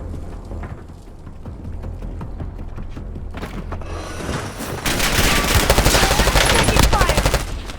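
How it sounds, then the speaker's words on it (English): Video game gunfire in a battle royale match crackles in rapid bursts and sustained automatic fire, getting louder and denser toward the end, with no talk. "Taking fire!"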